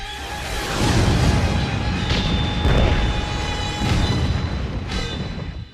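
Weapon fire and explosions in an animated Robotech battle, a dense, continuous roar of booming blasts with several sharper bursts standing out, loud and sustained throughout without speech.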